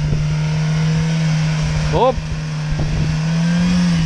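Renault car with a 2-litre engine taking a run-up across a muddy off-road field, a steady loud engine drone throughout, with people talking over it and a brief exclamation.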